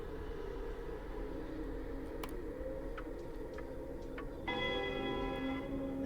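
An old grandfather clock ticks steadily with soft, evenly spaced clicks, then begins a sustained ringing chime that rings on to the end.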